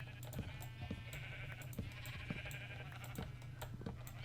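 Sheep in the video game Minecraft bleat several times in quick succession, soft and somewhat distant over a steady low game hum, with faint clicks scattered throughout.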